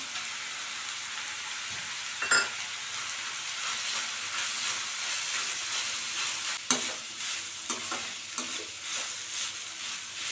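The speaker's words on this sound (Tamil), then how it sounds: "ஒரு நிமிஷம் அப்படி நல்லா ஒன்று சேர கிளறி விட்டால் மட்டும் போதும்" Grated coconut being stirred into a banana stem stir-fry in a pan gives a steady soft sizzle, broken by scraping spatula strokes and a few sharper clinks, close and alone with no talk.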